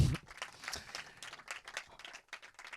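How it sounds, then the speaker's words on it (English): An audience at a film Q&A applauding, with a brief patter of clapping that stays fairly faint and thins out over a few seconds. "Big round of applause for Mia."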